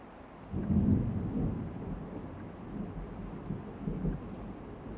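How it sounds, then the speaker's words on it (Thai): Deep rolling thunder rumbles through a rainstorm, a continuous low roar that swells near the start and again toward the end, with steady rain noise beneath and no voices. "ฝนตกครับ"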